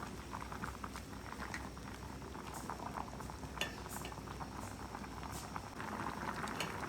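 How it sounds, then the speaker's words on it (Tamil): Cassava pieces boiling in salted water in a pot on a village-style stove, with a continuous close bubbling and gurgling and occasional light pops, steady and unbroken, with no talking. "மரவள்ளி கிழங்கு தேவையான அளவு உப்பு இன்னும் அது அவிய கிடக்குது"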